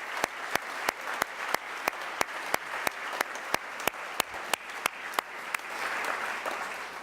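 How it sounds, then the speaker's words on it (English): An audience at a farewell reception and dinner applauds, with sharp, evenly spaced claps standing out over a softer wash of crowd clapping that swells toward the end. "give them a great round of applause"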